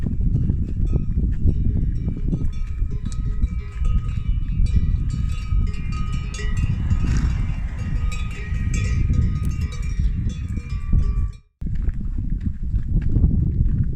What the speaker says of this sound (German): Mit den Kuhglocken um die Hälse sehen die Pferde dann doch nicht so gefährlich aus.